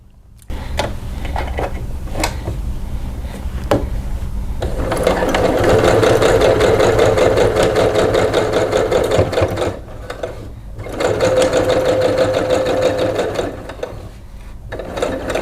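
A domestic sewing machine runs long stitch-length stay stitching along a skirt edge, loud and close, whirring in two sustained bursts with a brief pause and clicks between them.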